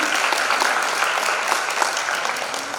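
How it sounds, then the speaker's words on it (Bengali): Audience applause at an academic event, a dense steady clapping from a crowd that runs without a break, loud and close, with no talk over it. "আপনাদের জন্য একটা হাততালি"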